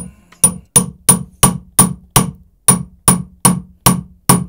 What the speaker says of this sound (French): Petit burin, petit marteau, casser la dalle, easy win.